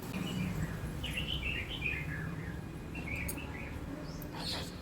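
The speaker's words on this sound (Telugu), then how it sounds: "నైవేద్యం తినే పిట్ట ఇది ఎంత అల్లరి చేస్తున్నాయి చూడండి" Small birds eating a food offering chirp in quick, faint bursts of high tweets over a low background hum, with several short calls scattered throughout.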